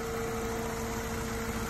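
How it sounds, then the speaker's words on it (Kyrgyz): A car engine idling, a steady close hum with a constant low tone and no variation over the short stretch. "Азыр машина иштеп турган чагы."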